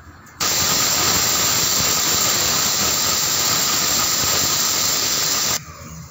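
A pressure cooker gives a loud, continuous high-pitched whistle with rushing steam hiss, steady for several seconds before cutting off abruptly, while cooking moong dal sambar.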